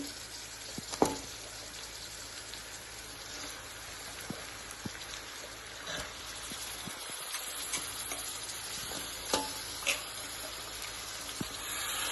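Country chicken for Telugu natu kodi curry sizzles steadily in a pan, a continuous crackling fry with occasional sharper pops and spits, close and moderately loud.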